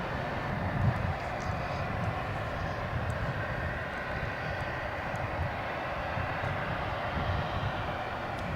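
An American Airlines jet departing Dallas/Fort Worth International Airport gives a steady, broad engine roar that holds evenly loud throughout without breaks.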